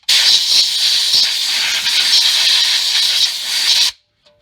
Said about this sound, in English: So I'm going to blow it off with air one more time.